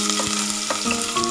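Onions frying in a tablespoon of hot oil for chicken korma, a continuous close hiss and crackle with light stirring and no voices.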